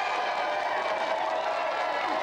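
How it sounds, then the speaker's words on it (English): Steady, dense applause from a TV studio audience, continuous and fairly loud throughout with no pauses. "round of applause for our special guest, Ronnie O'Sullivan"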